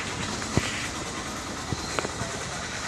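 A railway carriage on a Gujarat line toward Upleta and Virpur carries a dense, steady rumble of rolling stock with a few sharp knocks and clicks, close and loud, as passengers board.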